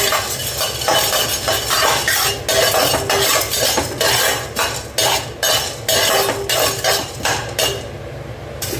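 Chana dal is dry-roasted in a pan while a metal spoon stirs it, producing repeated scraping and clinking strokes against the pan in an uneven rhythm, with a faint sizzle underneath.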